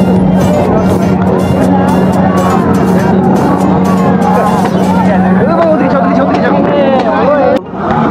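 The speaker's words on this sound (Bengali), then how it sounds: "এই একটা সুপার বাইক ঢুকেছে 1000 সিসির" A 1000 cc superbike rolls into a crowded dhaba lot on Independence Day, its engine a steady loud drone under dense crowd chatter and nearby talk, dropping away abruptly near the end.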